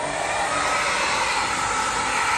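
A blow dryer fitted with a diffuser attachment runs on medium heat for curly hair, a loud, steady, close whooshing motor hum with no break.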